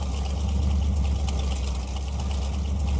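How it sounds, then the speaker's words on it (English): A car engine idles in the My Garage video game, giving a steady, continuous low rumble with a faint mechanical chatter and no voices. "Don't mind the random engine noise in the background."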